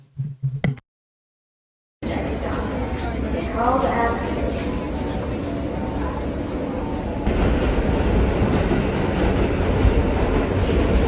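A subway train riding along, its car filling the space with a steady, close rumble and rhythmic clatter that swells louder toward the end, with faint voices in the background.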